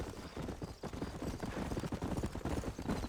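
Horse hooves clip-clop in a steady, rapid trot in the Red Dead Redemption video game, a dense rhythmic clatter that is fairly loud and close, with no talk over it.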